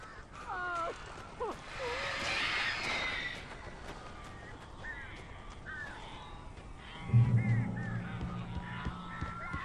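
Crows cawing in the video game Alan Wake, several harsh calls repeated in irregular bursts, with a lower honking, roaring tone rising near the end and a voice speaking partway through.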